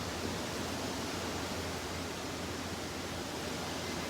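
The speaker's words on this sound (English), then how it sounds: "Can you hear how intense the wind is out there" A steady, broad rushing roar of strong wind outdoors, constant and fairly faint, with no voices.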